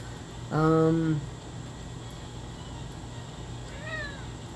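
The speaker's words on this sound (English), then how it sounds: "Cat has once again decided to grace us with her furry presence." A house cat meows once loudly and close with a clear harmonic cry, then gives a fainter, higher short mew a few seconds later over low room hum.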